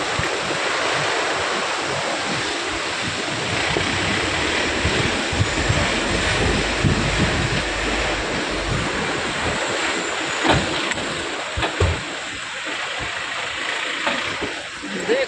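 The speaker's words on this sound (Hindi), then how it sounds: "वाटरफॉल्स नदी है ये" Waterfall and river in North Sikkim rushing with a constant broad roar, wind buffeting the microphone and someone speaking over the water noise.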